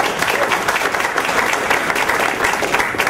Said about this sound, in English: I think we should give him a little applause for this.